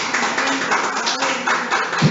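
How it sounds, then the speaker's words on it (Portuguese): A church congregation applauds during worship, a continuous patter of many hands clapping at close range, brief and fairly loud with no clear individual beats. "aplauda o Senhor"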